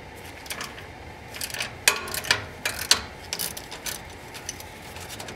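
Ratcheting wrench loosening 13 mm exhaust bracket bolts that hold the mufflers of a BMW E92 M3, heard as several sharp metallic clicks and short ratchet bursts, moderately close, with no talking.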